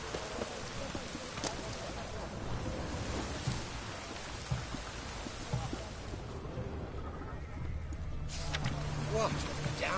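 Heavy rain pouring down in The Witcher 3: Wild Hunt, a dense steady downpour with scattered drops and faint rumbles, with voices talking faintly underneath.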